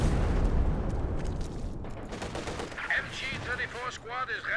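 A Stuka barrage strikes in a World War II strategy game, with loud rumbling explosions and gunfire dense at first and thinning out, then a voice commenting over the fading battle.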